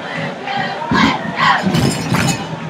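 A football stadium crowd roars and shouts in repeated loud swells, stirred up by cheerleaders at a Western game, a dense wall of voices with no clear speech.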